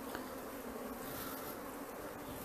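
A strong honeybee swarm drones steadily inside a five-frame hive, a constant, dense, close-up buzz with no voices.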